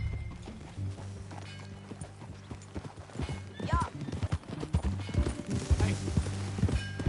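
Horse hooves clip-clop at a steady walking pace in Red Dead Redemption 2, growing louder and quicker toward the end, over a low steady hum, with a brief spoken word.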